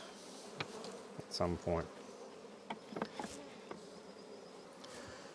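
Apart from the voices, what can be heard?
honeybee colony buzzing at a hive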